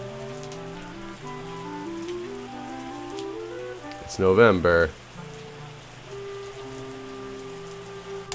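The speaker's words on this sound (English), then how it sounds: "It's cloudy and rainy, which is really annoying." Rain falling in the Terroir video game, a steady patter on surfaces running under game music and a brief louder burst of sound, with a voice speaking briefly.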